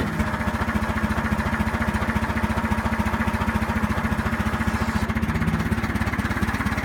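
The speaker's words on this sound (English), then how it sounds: "The engine's only just idling" Oliver tractor engine idling steadily, a low rhythmic chugging with evenly spaced firing pulses, loud and close, running alone without voices for the full stretch.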